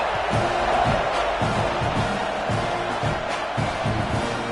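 Home crowd at an NCAA college football game roaring steadily at the start of the season, a dense continuous wash of cheering and shouting with rhythmic thumps underneath, loud and sustained throughout.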